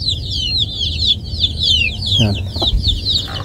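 Many chickens cluck and chirp together in a busy, overlapping chorus, while someone says a brief word.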